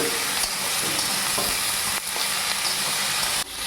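Vegetables sizzle steadily in a hot pan for a Bengali small-fish chorchori, with a dense, continuous frying hiss and a few soft scrapes of stirring, close and loud throughout with no talk.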